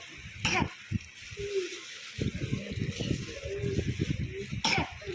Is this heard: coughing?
yes